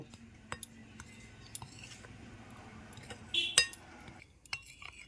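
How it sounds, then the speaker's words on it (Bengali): Dry ingredients for a pointed gourd (potol) chop batter, sweetened with a little sugar, are stirred and mixed in a bowl, giving faint scattered scrapes and clinks. A sharper clink rings out near the end, with no talk. "প্রথমে আমি শুকনো উপকরণগুলো একটু নেড়ে চেড়ে মিশিয়ে নেব।"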